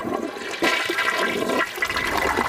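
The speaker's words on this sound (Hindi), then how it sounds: "चलो अब इसे टॉयलेट में फ्लश कर देती हूँ चलो पानी डाल देती हूँ" Toilet flush, a loud, close rush of water that swells and churns steadily for a couple of seconds with no voices.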